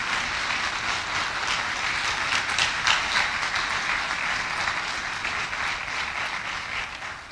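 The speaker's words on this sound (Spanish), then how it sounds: "¿Alguien le puede dar un aplauso al Señor?" A church congregation applauds steadily during a Spanish-language sermon, a dense, even wash of clapping that holds for several seconds without speech.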